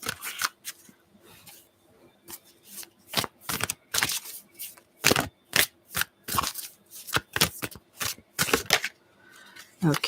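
Tarot cards are shuffled and drawn in repeated crisp riffling bursts and snaps, close up, with soft handling rustles and faint talk in between.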